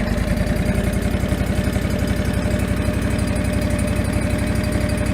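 A fuel-injected John Deere 445 garden tractor engine idles steadily and loudly throughout, with an even, throbbing mechanical drone and no talk.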